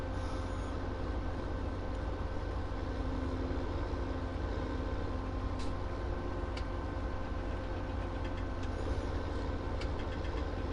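A tractor or wagon in Farming Simulator 17 drones with a steady, low engine rumble and hum, joined by a few faint clicks and ticks, all at a constant, moderate level throughout.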